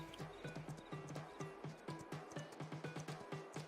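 Horse hooves while riding through woodland in Farming Simulator 22: a steady, rhythmic clip-clop of galloping hooves, close and clear, with no talking over it.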